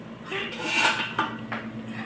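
A metal ladle scrapes and clanks against a cooking pot in a few quick, close strokes, with faint voices in the background.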